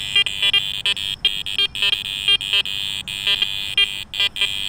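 Garrett Apex metal detector giving iron tones over a test board, a rapid run of short, harsh, buzzy beeps in irregular bursts, loud and close, with no talking.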